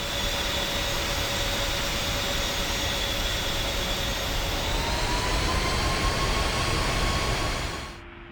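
A-10A jet taxiing toward the runway at Ramat David Air Base in DCS, a loud steady turbine whine with a rising tone partway through, then cutting off abruptly near the end; no talk.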